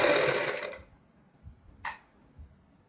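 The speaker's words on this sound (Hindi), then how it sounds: "और जो हमने पाइपिंग वाली सिलाई लगाई थी उसी के ऊपर हम सिलाई लगाएंगे।" A sewing machine stitching a kurti neck over earlier piping runs in one brief close burst, then stops, leaving a couple of faint clicks.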